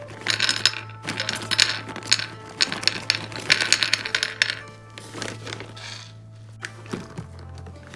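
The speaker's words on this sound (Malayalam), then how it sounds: "ഞാനിപ്പോൾ കുറച്ച് ബദാം" Almonds tipped onto a plate for microwave roasting, a run of quick clattering clicks in bursts for several seconds, then sparser taps, with a steady low hum underneath.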